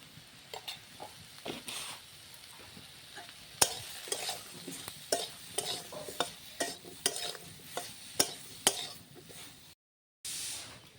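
Eggplant frying in hot oil in a pan, seasoned with turmeric and salt, gives a steady low sizzle under repeated scraping and stirring clinks of a spatula, close and moderately quiet, with a brief silent gap near the end.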